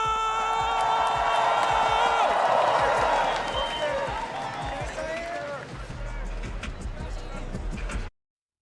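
A stadium crowd at the Valorant Masters Toronto lower final roars and cheers, loud and sustained at first, then easing into a steadier wash of cheering with whoops; the noise cuts off abruptly near the end.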